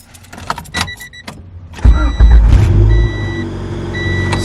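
A Honda Civic's B16A2 engine cranks and catches, then idles loudly and steadily up close, with a few faint electronic beeps chiming over the running motor.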